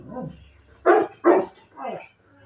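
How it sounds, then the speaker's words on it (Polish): A dog gives several loud, close barks in an uneven rhythm, a couple of sharp ones followed by a softer, drawn-out bark, with quiet between them. "Przestań szczekać, że jesteś zły na mnie."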